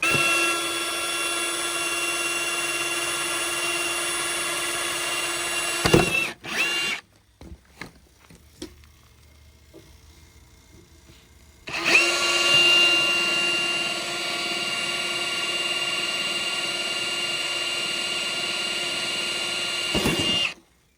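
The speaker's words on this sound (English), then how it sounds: "I'm going to drill 2 holes here and here, pre-drill them before I mount up onto the brick." Hammer drill boring holes into brick, a loud steady whine for about six seconds, a pause of quiet handling, then a second long steady run that cuts off sharply.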